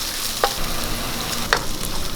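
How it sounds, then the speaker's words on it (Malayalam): Sliced shallots, crushed ginger and garlic, and slit green chillies fry in coconut oil for a soya chunk curry, a steady close sizzle broken by a couple of sharp stirring scrapes. "നമുക്ക് കുറച്ച് വെളിച്ചെണ്ണ ഒഴിച്ചു കൊടുക്കും. ഒരു 1/4 കപ്പ് ചുവന്നുള്ളി അരിഞ്ഞ് ഇട്ട് കൊടുക്കും."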